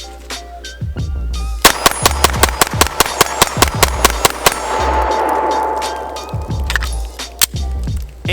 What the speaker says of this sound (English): I think we have just enough time for a mag dump.